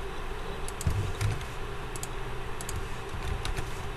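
Steady keyboard typing with soft, scattered key clicks over a low room hum, no voices, fairly quiet throughout.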